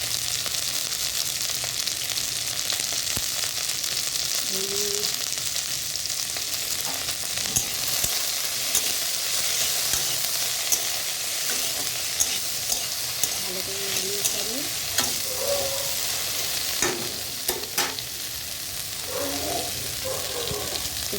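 Cut okra frying in salted oil in a pan, giving a continuous loud sizzle with scattered clicks and scrapes of stirring and a few brief clatters near the end.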